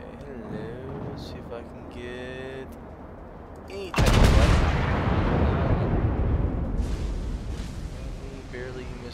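Torpedoes in World of Warships hit an island, setting off a sudden heavy explosion followed by a long rumbling roar with scattered booms, after quieter game ambience and brief beeps.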